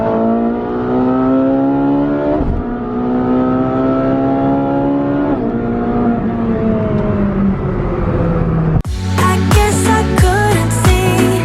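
A loud, throaty modified Ferrari engine revs up and holds high, sliding through several rising pitches, then a sharp shift into a harsher, choppier engine roar.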